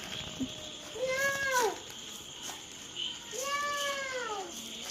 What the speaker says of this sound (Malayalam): പൂച്ച കരയണ്ടാട്ടോ.